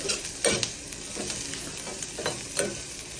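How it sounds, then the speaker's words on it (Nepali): A spoon stirs onions and turmeric frying in a pan, a steady sizzle with scraping strokes recurring at an even, unhurried pace. "बेसार हालेँ, अब यसलाई चलाउँछु।"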